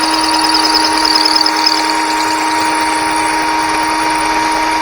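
A power drill whines steadily at high speed, a sustained close, loud tone with a faint squeal as it bites into metal.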